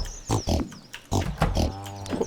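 Pig grunts from the farming game Stardew Valley, a few short snorting bursts close up within a couple of seconds, mixed with other game sounds.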